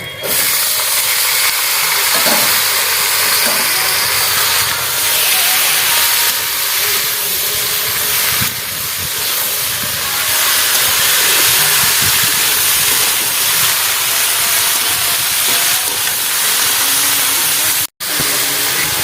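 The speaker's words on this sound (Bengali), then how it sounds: "একটু 5 ফোঁটন দিলাম, এই আনাজ ঢেলে দিলাম" Vegetables hit hot oil with five-spice for Bengali shukto, making a loud, constant sizzle and hiss that runs throughout, cut by one sharp click near the end.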